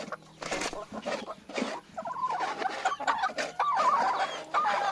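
Pet chickens cluck and squawk close by in a steady run of short, overlapping calls, fairly faint overall.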